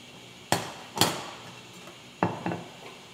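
A spoon knocks and scrapes in a pot as grated Parmesan, Gruyere and mozzarella are stirred into creamy risotto, giving four sharp clinks in two pairs, fairly close, with no talking.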